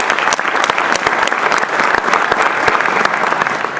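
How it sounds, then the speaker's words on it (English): Dense, steady audience applause at a college event honoring Cristina Soco, who assembled a photo montage; many hands clap loudly and continuously throughout with no talk over it. "Let's give her a round of applause."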